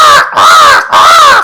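A man mimics a mountain crow's caw with his voice, giving two loud, harsh, drawn-out calls separated by a short gap, very close and alone.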